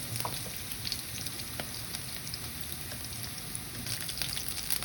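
Onions sautéing in a pan for a pomfret fish curry give a steady, close frying sizzle with faint crackles, continuous and even throughout, with no talk over it.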